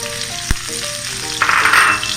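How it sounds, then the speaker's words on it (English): Shallots stir-fry in a hot pan under a continuous sizzle, with a sharp utensil knock early on and a louder hiss of stirring toward the end. "sweat these and stir fry them for a minute or two"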